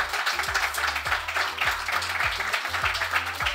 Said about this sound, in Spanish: despedirnos pues con un fuerte aplauso para Paul nuevamente.